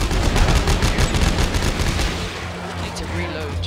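Rapid, loud gunfire rattles in dense bursts while shooting enemies in Dead Space 3, then thins out toward the end, with players talking over it.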